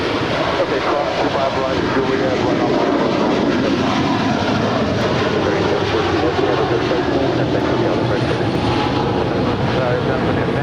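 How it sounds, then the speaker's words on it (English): A United Airlines Boeing 777-200ER arrives at Los Angeles airport. Its loud broadband jet roar fills the whole stretch, dense and close, with voices in the mix. "That is United Airlines flight 1877 coming in from Houston, Texas. It's a 777-200ER."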